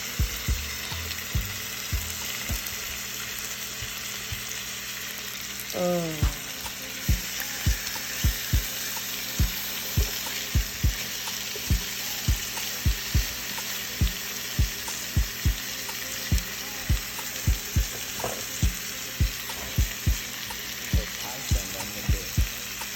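Cajun honey salmon browns in a frying pan with a steady, close sizzle and frequent light clicks and taps of a utensil against the pan.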